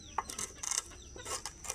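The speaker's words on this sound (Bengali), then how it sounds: "দেখো আমার কত মুরগি, তোমাদের দেখাবো" Backyard chickens cluck in short, scattered bursts, quiet and fairly close, with no talking over them.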